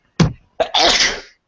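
A man sneezes close to the microphone during a radio show, with a short intake, then a sharp, loud burst trailing off in about a second.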